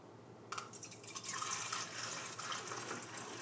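Almond milk pours steadily through a funnel into a container with a gurgling, splashy sound and a few drips at the start, close and continuous.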